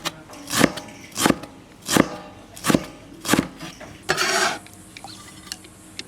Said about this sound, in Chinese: 洗净的茴香切碎直接做